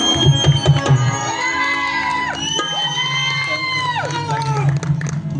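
A lively village fair crowd cheers, applauds and whoops continuously after a dance troupe's performance, with high shouts and calls rising over a steady roar of voices.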